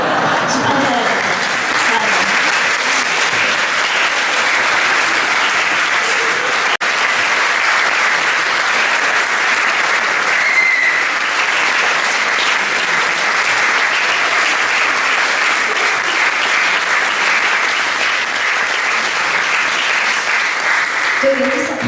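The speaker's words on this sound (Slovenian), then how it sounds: "To je res aplavz za vas" An audience at a film preview screening in Domžale claps continuously, a dense, loud and even applause that lasts throughout without pause.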